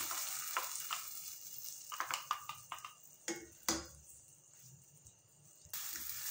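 Spinach puree being added to palak paneer gravy in a pan: soft wet plops and scraping stirs over a faint steady sizzle, with a few sharper clicks from the utensil against the pan.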